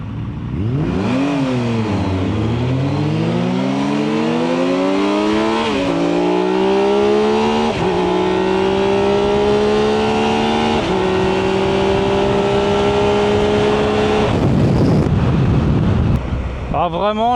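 A Triumph Tiger 1200 motorcycle on a race track, engine revving loudly and climbing through several gear changes, with heavy wind rush over the microphone, then dropping off near the end.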